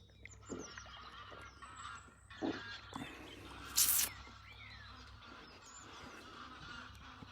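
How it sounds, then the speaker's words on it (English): Geese honk outdoors near a fishing lake, a few separate calls spread across a quiet background with occasional rustle and one sharp louder burst near the middle, no speech. "I'll tell you, I've never seen so many bloody geese up here."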